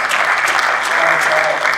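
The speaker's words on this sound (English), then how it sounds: "Let's give a round of applause." Steady, dense applause from an audience at a realtor company gathering fills the moment, loud and even throughout with no gaps.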